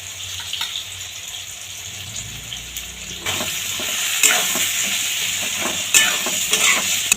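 Brinjal pieces frying in oil seasoned with turmeric and salt, a steady hiss that grows busier partway through, with close spatula scrapes and clatters against the pan and no speech.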